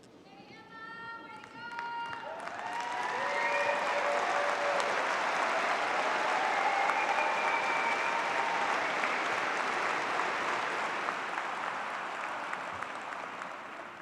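A large crowd at a Clemson graduation ceremony applauds new master's degree graduates, sustained clapping that swells and holds, with a voice heard briefly at the start and cheering mixed in.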